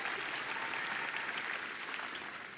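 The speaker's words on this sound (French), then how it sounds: "Ouais, ça applaudit un peu mou," Lukewarm applause from an audience at a Google event, a steady, even patter of clapping at moderate distance that neither builds nor fades, with no voices over it.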